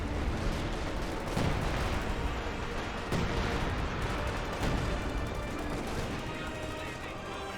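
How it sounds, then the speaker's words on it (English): Artillery barrage in Company of Heroes 2, dense rumbling gunfire and booming impacts rolling on continuously, with a few sharper blasts standing out, while a voice talks faintly underneath. "Major artillery looks like."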